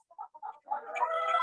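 Chickens clucking inside a roosting coop at a chicken ranch: a few short, separate clucks at first, then a continuous overlapping chorus of clucking from several birds, fairly close.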